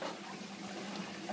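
An aquarium sump's return pump pushes water back up to the main tank, giving a steady, close rushing and gurgling flow like a running tap, with no talk over it.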